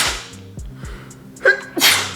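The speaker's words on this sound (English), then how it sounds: "About to sneeze." A short sniffling intake builds to a sharp, explosive sneeze near the end, close and loud with no talking around it.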